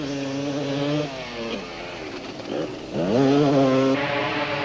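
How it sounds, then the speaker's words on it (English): Racing motorcycle engines, including a KTM and a Honda Kawasaki, at a 1991 Thaba Nchu 500 off-road event, screaming loudly as they pass one after another, pitch rising and falling through gear changes and a close drive-by. "Behind Human was the Pelham Products KTM of John Hodgson, as skillful as ever and still going consistently fast."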